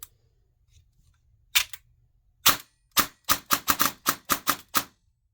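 Elite Force MP5K airsoft gun with upgraded selector firing semi-automatic: sharp, close single shots, a couple spaced out, then a quick string of about nine evenly paced cracks.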